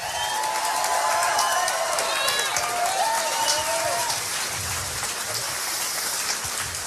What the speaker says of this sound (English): They're clapping about Obamacare.